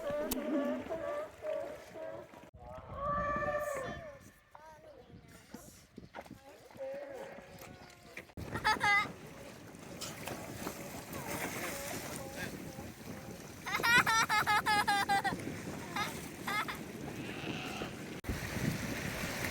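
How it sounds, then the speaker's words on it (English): A noisy sea lion colony on San Pedro Martir island in the Sea of Cortez gives hoarse, wavering barks and bellows amid wind and water noise, with loud calls near the start and again toward the end. "We were welcomed back by a noisy colony of sea lions."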